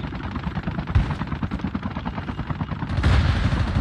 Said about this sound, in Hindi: इसको गोली मारो।